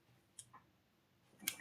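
Xiaomi Mi 9T pop-up selfie camera retracting into the phone body, giving a few faint, quick mechanical clicks close to the microphone, followed by a brighter click-burst near the end in an otherwise quiet room.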